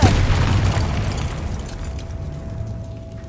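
A Confringo fire-blast spell from Hogwarts Legacy erupts in a single loud, deep explosion that booms at once and slowly rumbles away over the following seconds.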